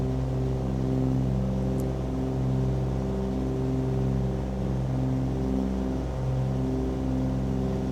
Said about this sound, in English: Everything's forward on the good engine.